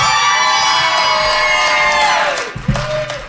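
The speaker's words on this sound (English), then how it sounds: "Wow, what a crowd." Live studio audience at a Las Vegas radio show cheering loudly, with whoops and shrill whistles rising over a steady roar of crowd noise that eases slightly near the end.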